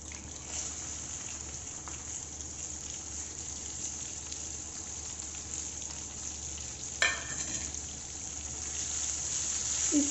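Chopped okra with green chili sautéing in a pan, giving a steady, even sizzle throughout with a brief louder clatter partway through, as if stirred, and no talking.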